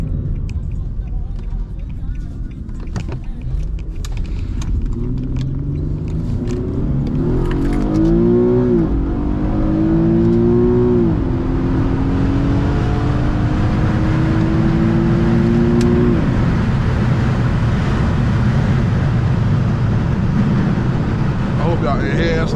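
Tuned Infiniti G37 accelerating at highway speed, engine note climbing through gears over a steady roar of road and wind noise, heard from inside the car.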